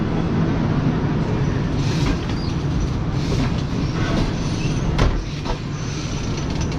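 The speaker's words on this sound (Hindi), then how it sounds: "हमारी ट्रेन जो है वो निकल रही है चकलाला रेलवे स्टेशन से" Tezgam pulls out of Chaklala railway station at night, a steady low rumble of coaches with light clatter and a few brief squeals, heard from inside the train.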